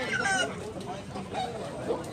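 A two-year-old Blackwell gamefowl rooster with yellow legs clucks in short repeated calls at close range, against a busy background of other birds.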